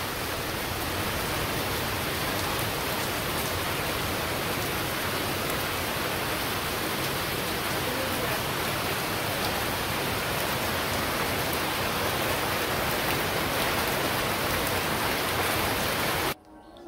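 Steady rain pours on a village in the afternoon after the wind has died down, a dense, even hiss of drops on surfaces that stays constant throughout before cutting off abruptly at the end.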